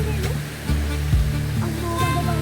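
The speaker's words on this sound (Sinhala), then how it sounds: "අන්න වතුර මෙතනින් වැටෙනවා" Water spilling down a small rocky cascade in the Nuwara Eliya hills, a steady broadband rush heard close and continuous, with faint background music and some low thumps.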